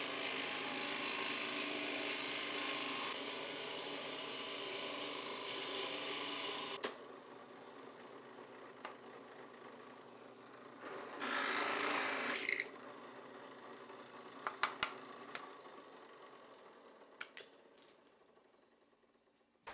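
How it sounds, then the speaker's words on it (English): A one-inch Forstner bit bores a bearing hole into a wooden pendulum arm, a loud steady grinding drone for about seven seconds, then quieter shop noise with a brief whirring burst and scattered clicks. "I'm drilling another hole in for the bearing, and I'm using a 1-inch Forstner bit"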